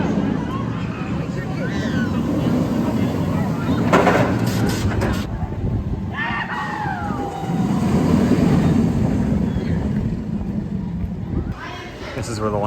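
A Pandemonium roller coaster train runs at Hersheypark, giving a steady rumbling roar with rattling surges that swell around the middle, while voices chatter in the background.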